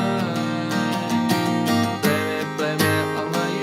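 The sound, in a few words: acoustic guitar playing a song chorus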